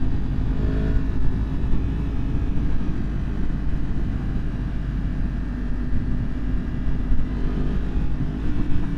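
A Yamaha MT-10 motorcycle engine runs with a loud, steady, close-up rumble that holds without a break for the whole stretch, with no voices over it.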